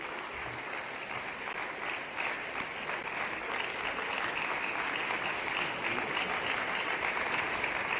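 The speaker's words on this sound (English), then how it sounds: "Please, with a round of applause," Audience at the Democracy Dialogue 2025 applauding to welcome Dr. Goodluck Jonathan, a steady, dense wash of clapping heard from a distance, fairly faint but sustained across the whole stretch.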